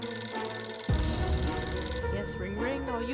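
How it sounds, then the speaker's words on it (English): A telephone rings in the survival game 60 Seconds, its bright, repeated ring starting abruptly after a short quiet opening, with someone talking over the later part. "We're not gonna answer that phone."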